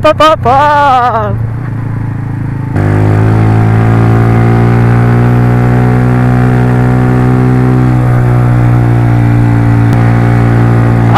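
A motorcycle engine drones loudly and steadily under heavy load on a slippery road near Napsan, Puerto Princesa, Palawan, holding a strained, labored pitch that rises slightly, close by and dominant throughout.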